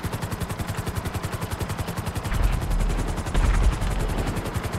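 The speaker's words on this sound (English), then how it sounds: "they're gonna die by aerial bombardment" A hovering helicopter in GTA 5 Online, its rotor chopping in a fast steady pulse, with heavy low booms from an aerial bombardment bursting in midway.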